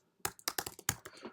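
Quick, irregular burst of keystrokes on a computer keyboard, close and crisp with short gaps between taps and no voices.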